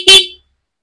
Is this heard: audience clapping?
no